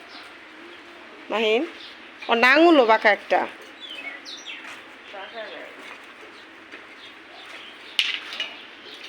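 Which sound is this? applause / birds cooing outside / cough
birds cooing outside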